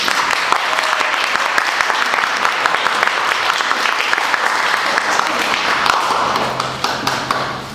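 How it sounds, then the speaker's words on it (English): A performance audience at a summer camp show bursts into dense, sustained applause, loud and steady for the whole stretch with many overlapping claps, easing slightly toward the end. "I'd like to everybody give them a nice round of applause"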